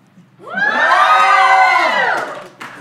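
A live audience cheers, whoops and shouts together at a game show, the roar swelling quickly, holding loud for about a second and a half, then fading, with a brief burst at the end.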